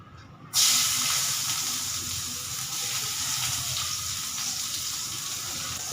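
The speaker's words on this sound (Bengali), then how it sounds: "ফোড়নে আমি প্রথমেই দিয়ে দিলাম পেঁয়াজটা" Onion hits hot oil as the tempering for a Bengali fish curry begins. A sudden loud sizzle erupts and then settles into a steady, bright, hissing fry that runs unbroken to the end.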